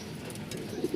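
Pigeons kept for breeding, with eggs and chicks, coo softly in a steady low murmur, a couple of louder coos rising near the end over faint chirps.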